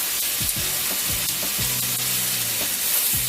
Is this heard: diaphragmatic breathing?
no